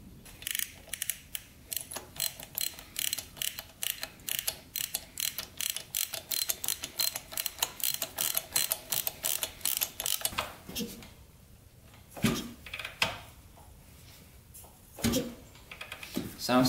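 A spark plug being screwed back into an old Suzuki RV90 motorcycle engine: rapid, close ratcheting clicks in a steady rhythm for about ten seconds, then slower, sparser clicks and clunks.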